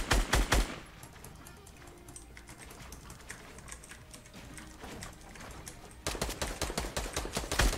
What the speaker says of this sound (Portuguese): continua atirando